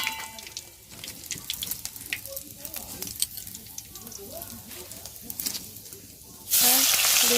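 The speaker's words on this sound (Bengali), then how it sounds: "আর এই যে গোটা গরম মশলাগুলো তেলে দিয়ে দিলাম।" Whole garam masala spices hit hot oil and sizzle with a steady, hissing crackle that swells into a much louder, denser sizzle near the end.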